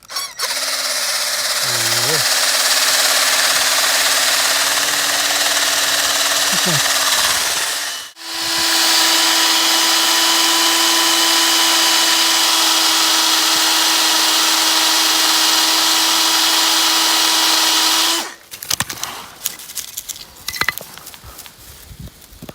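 A power drill spinning wood to start a fire whirs loudly and steadily for several seconds, stops briefly, then spins again before cutting out into scattered small knocks and rustling.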